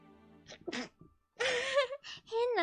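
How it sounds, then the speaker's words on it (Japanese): A woman's odd, sharp sneeze breaks out close to the microphone, with a short build-up breath before it and a voiced exclamation after. "変なくしゃみが出てしまいました。"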